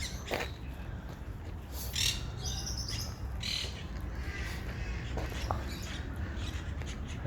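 Parrot calls and chirps ring out repeatedly from an aviary over a steady background hum, with several sharp squawk-like bursts scattered throughout.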